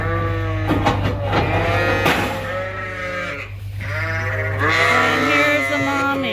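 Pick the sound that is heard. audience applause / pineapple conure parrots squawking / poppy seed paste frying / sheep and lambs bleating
sheep and lambs bleating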